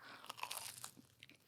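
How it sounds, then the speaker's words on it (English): A crunchy bite into a fried samoosa, crisp broadband crackles close to the mic in quick bursts over about a second, fading into softer chewing, with no talk. "Sorry for the crunch to the listeners."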